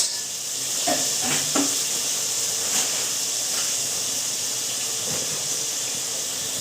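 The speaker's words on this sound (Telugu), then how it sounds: "క్యారెట్లండి టమాటాలు పచ్చిమిర్చి ఇవన్నీ వేగనిద్దాం కొంచెం ఉప్పు వేసుకొని" Carrots, tomatoes and green chillies frying with salt in a pan for a veg biryani, a steady hiss and sizzle with a few soft clinks of stirring, close and even throughout.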